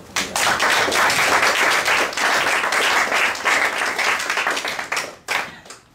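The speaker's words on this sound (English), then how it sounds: "I think Empress Marina deserves applause for" Audience at a community gathering breaks into applause, a loud run of many hands clapping that starts abruptly, stays strong for about five seconds, then fades with a few last scattered claps.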